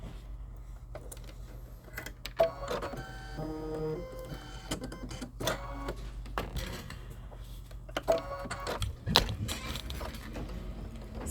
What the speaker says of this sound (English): I'm getting ready to fire up the 10 needle.